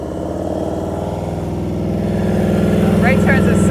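A motorcycle engine runs close by in a steady mid-pitched drone that grows a little louder toward the end, with a brief chirp near the close.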